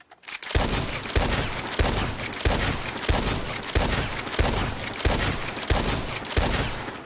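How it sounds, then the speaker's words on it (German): Ten rapid rifle shots ring out in succession at a shooting range, evenly spaced sharp cracks each with a short echoing tail, loud and close, nothing else between them. "werden wir jetzt 10 Schüsse abgeben und die Zeitmessung beginnt wieder mit dem ersten Schuss und endet mit dem 10. Schuss"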